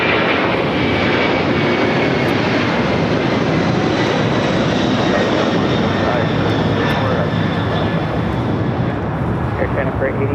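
A fixed-wing airliner lands on runway 25 left at LAX, its engines giving a loud, steady roar that fills the whole stretch without letup.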